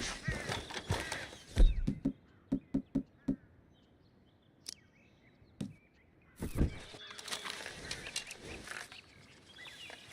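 A series of sharp, rapid knocks of a woodpecker tapping sounds in short bursts amid Red Dead Redemption 2 game ambience and other clattering noises.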